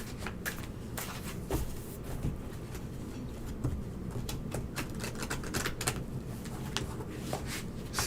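Secret Tarot cards shuffled by hand in a steady run of soft riffling and flicking, close and fairly quiet, with no talking for about eight seconds.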